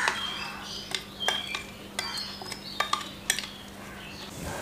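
A mashed potato filling for a bread sandwich is mixed with spices, chopped onion and green chili in a bowl, giving a string of sharp spoon-on-bowl clinks and scrapes at an uneven pace under a faint steady hum.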